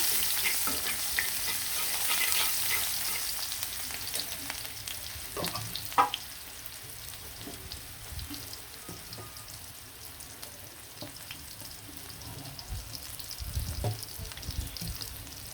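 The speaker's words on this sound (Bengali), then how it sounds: "আর এখানে তেলের মধ্যে কিন্তু আমি পেঁয়াজ দিয়ে দিলাম" Onions sizzle in hot oil in a pan that earlier held fried hilsa fish pieces, a steady close crackling hiss with a few light stirring scrapes across the whole stretch and no talk.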